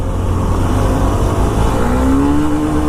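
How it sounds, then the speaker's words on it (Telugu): A Honda SP 125 motorcycle accelerates in first gear, its engine a steady, close droning whine that climbs gradually in pitch across the whole stretch, with no talking. "ఫస్ట్ గేర్లో అయితే ఉంది బైక్."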